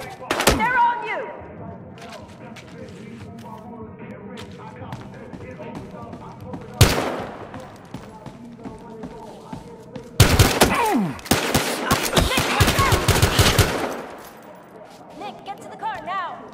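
Gunfire in the police shooter game Battlefield Hardline comes in separate volleys: a burst at the start, a single sharp blast near the middle, then a long heavy exchange of shots, with voices talking between them.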